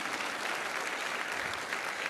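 A church congregation applauds during a Portuguese-language Catholic sermon, a steady, dense patter of clapping that fills the room throughout.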